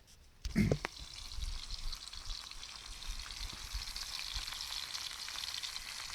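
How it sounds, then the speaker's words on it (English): Potatoes and mushrooms boil in a pot at a wet mountain campsite. A brief clunk comes first, then a steady bubbling hiss that stays even and close to the end. "tates and mushrooms are doing. They've been boiling about 10 minutes now"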